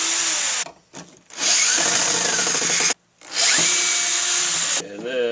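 A power drill unscrews screws from a wooden form used for casting cement in a refractory tunnel build. Close, loud whirring bursts run in two long runs with short pauses between them and no talk.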